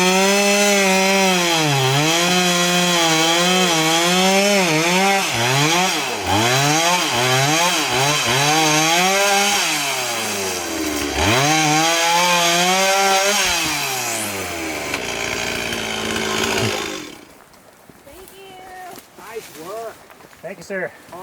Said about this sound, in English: they're having to cut it down right now with a chainsaw